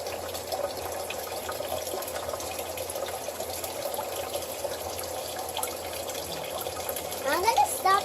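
Water from a geothermal source runs steadily from an outlet, a continuous gushing rush that holds level throughout, with a brief rise near the end and faint talk in the background.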